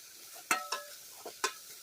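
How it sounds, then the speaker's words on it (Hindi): Grated amla is stirred into roasted sesame seeds in a pan, with four quiet, separate scrapes and clinks of a spoon against the metal and a faint sizzle underneath. "फिर अच्छे से मिला लेंगे"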